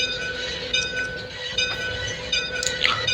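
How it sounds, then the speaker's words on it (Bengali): A train rolls along in the Bangladesh Train Simulator video game, giving a steady rumbling run with sustained tonal hum and some brighter squeals toward the end, loud and continuous. "আমরা আস্তে আস্তে ট্রেন আগায় নিয়ে যাব।"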